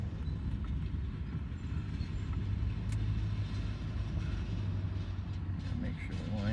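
A truck rolls onto a scrapyard scale with a steady low engine rumble and road noise throughout, close and fairly constant.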